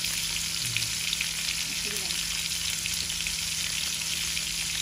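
Pieces of pangas fish sizzle steadily in hot oil in a pan, a constant close hiss of frying, with only faint background sound.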